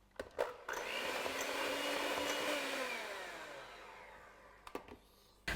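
An egg, vegetable oil and vanilla extract for a mini spice cake are beaten together with an electric mixer, a steady whirring drone lasting several seconds, close and loud, with brief clicks as it starts and stops.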